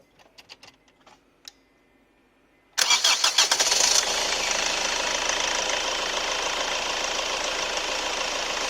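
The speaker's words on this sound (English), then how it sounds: "so we'll start the car." A Honda Accord 2.2 i-CDTi diesel engine cranks briefly after a few faint clicks, catches with a loud burst and settles into a steady, close, clattering idle that runs on without break.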